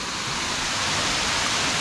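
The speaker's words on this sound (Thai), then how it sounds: "มาเห็นน้ำตกแล้วทุกคน" A waterfall pours steadily at a newly built site, giving a dense, even roar of rushing water that holds at constant loudness throughout, close and alone with no voices.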